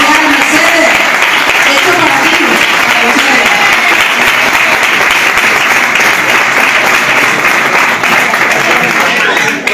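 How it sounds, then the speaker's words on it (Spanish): A flamenco club audience in Villarrubia, Córdoba, applauds a man named Marcial with steady, dense clapping that runs loud and unbroken throughout, with crowd voices mixed into the ovation. "Marcial, un fuerte aplauso para él que está ahí viendo."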